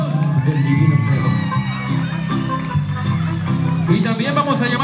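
Guests at a quinceañera party cheer and whoop loudly with shouting voices and a steady noisy din, crowded and close, the celebration continuous throughout.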